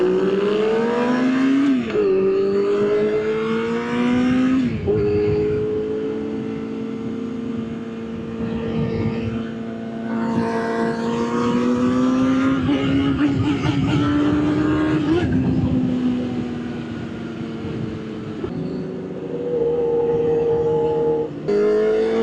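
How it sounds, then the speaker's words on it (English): An Aprilia motorcycle engine revs and accelerates through several gear changes, deep grunting tones rising in pitch, then dropping with each shift, loud and close over a long run, with faint voices underneath. "I love the grunt of the Aprilia."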